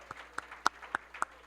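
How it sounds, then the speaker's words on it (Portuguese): An audience claps for Ronaldo in a lecture hall, a short run of sparse, evenly spaced claps, about five distinct hits, fairly close and fading quickly. "salva de palmas para o Ronaldo"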